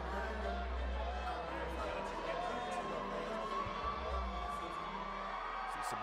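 A crowd at a women's boxing match in Detroit gives an ovation, with dense, loud cheering, whoops and shouts and a commentator talking over the roar.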